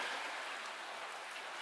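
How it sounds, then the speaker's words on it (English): Steady rain pouring near a terrace at Kawasan Falls, a dense continuous hiss of drops on surfaces with no pauses and no voices. "it is raining. It's been raining all day."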